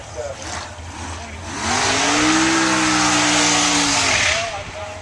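A Chevy car at the Super Chevy 2018 event at Palm Beach International Raceway revs up and holds a loud, steady engine drone that rises and then fades, with a voice talking faintly near the start.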